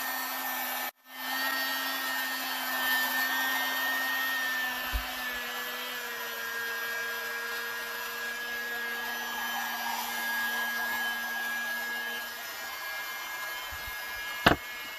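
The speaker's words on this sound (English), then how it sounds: "You're also going to need a heat gun, because this is going to be the part that actually holds the controllers." A heat gun blows steadily for about fourteen seconds, warming plastic until soft for a DIY Oculus Quest 2 gun stock, a constant airy roar with a faint whine and a couple of brief clicks near the start and end.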